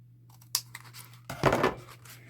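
Scissors cutting into the tabbed area of a paper Christmas cracker, a few small snips followed by a louder crisp rasp of blade through paper, close and brief.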